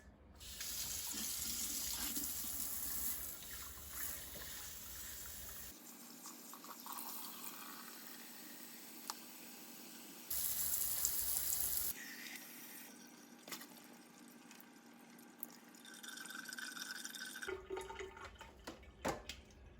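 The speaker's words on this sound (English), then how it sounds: "need to rinse them 2 times a day" Alfalfa sprouts are rinsed under a running kitchen tap, with loud water gushing and splashing into a sink in several bursts separated by quieter trickling and handling sounds.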